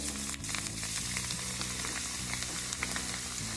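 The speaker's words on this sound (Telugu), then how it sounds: "బాగా కాగిన తర్వాతే ఇట్లా పెట్టాలి వేయించాలి" Leftover cooked rice dropped into well-heated oil to make puffed rice, a steady close sizzle and crackle of frying with bubbling throughout.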